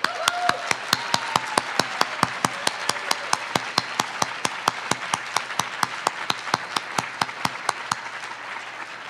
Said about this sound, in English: Tom deserves a huge round of applause